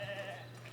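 Sheep bleating in the colony-building video game Foundation, a single short, faint bleat heard alone.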